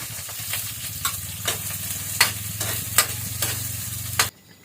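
Sautéing in a pan, a low steady sizzle punctuated by rhythmic scraping strokes of a utensil about every half second, ending abruptly.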